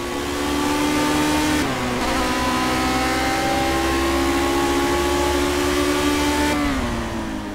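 A Lotus 49 Cosworth race car engine in the racing game Project CARS on the Sakitto GP circuit: a loud, buzzing, high-revving drone held steady, with two brief pitch drops as gears change.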